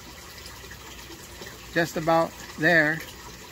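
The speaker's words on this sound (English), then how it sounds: "Just about that level, and then the siphon will initiate any second." Water flows steadily through an aquaponics U-siphon as the grow-bed level holds just before the siphon starts, a soft continuous wash running beneath a man's brief spoken remarks.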